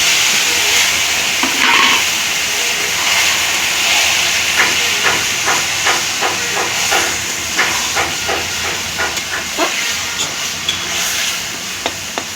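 Taro leaves hit a pan of fried green chilli and onion, setting off a loud, constant hissing sizzle close by, with a run of quick clicking spatula stirs through the second half and no speech.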